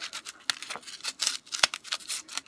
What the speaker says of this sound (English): I'm just gonna take my scissors.